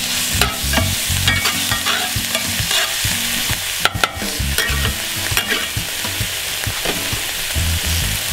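Beer cheese soup ingredients being stirred in a pot, with a close, rhythmic scrape and slosh of the spoon over a soft sizzle, one sharper clank midway.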